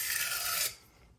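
A blade edge drawn lightly across a sharpening stone to deburr it, giving a steady, close raspy scrape for a moment that then stops.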